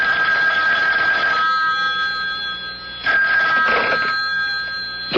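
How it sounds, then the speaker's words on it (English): A telephone rings as a sound effect in a CBS Radio Mystery Theater radio drama, with two loud, close bursts of ringing separated by a short pause and no voices. "Then he crossed to the public phone to make a call."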